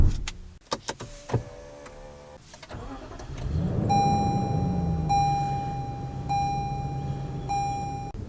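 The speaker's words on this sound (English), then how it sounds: "And then also the steering wheel is power adjustable." The power-adjustable steering column motor of a 2023 Lexus GX 460 Black Line hums with a steady electric whine. It follows a few sharp clicks and a low cabin rumble, and stops and restarts briefly as the wheel moves.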